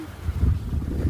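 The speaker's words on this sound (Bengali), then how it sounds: "দারুণ একটা বাতাস দিচ্ছে" Strong wind gusts in Agartala during heavy rain produce a steady low rumble that buffets the microphone close up, with no voices.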